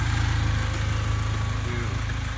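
A Honda CB7 engine idles steadily at about 800 rpm, a close, even, low rumble with a regular pulsing beat and no talk over it.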